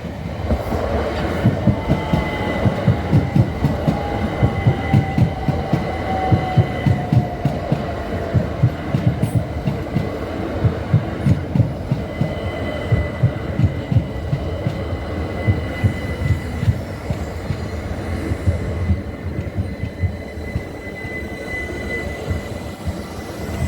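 A train rumbles steadily past at close range near Robertsbridge station in East Sussex, wheels clacking in a rapid repeating rhythm, with a faint high whine running through it.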